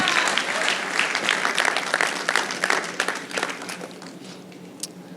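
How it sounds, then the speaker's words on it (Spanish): Church congregation clapping in a sustained burst of applause, close and full at first, then thinning and fading out toward the end with a few scattered claps. "Si ese aplauso es para el Señor,"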